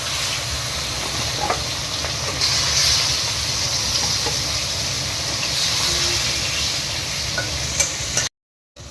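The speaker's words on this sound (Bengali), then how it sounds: "মাছটা ছেড়ে দেবো, তেল গরম হয়ে গেছে।" Bhetki fish fries in hot oil, giving a steady, close crackling sizzle with a broad hiss that holds from start to finish, then cuts off abruptly just before the end.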